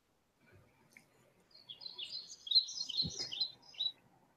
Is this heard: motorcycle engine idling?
no